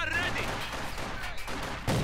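Heavy autocannon volleys in a Company of Heroes 2 match between German and Russian forces, a dense continuous rattle of gunfire filling the whole stretch, with a sharper burst at the end.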